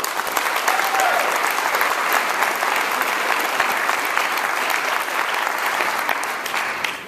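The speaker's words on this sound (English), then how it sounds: "give a round of applause for that." Sustained audience applause at a Gatorade Player of the Year award ceremony, a dense, steady wash of clapping hands from a crowd that holds evenly for about seven seconds before easing off.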